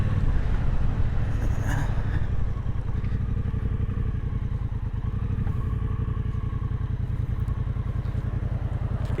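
A new big motorcycle being ridden in second gear, its engine giving a loud, steady, close droning rumble that holds evenly throughout with no talking.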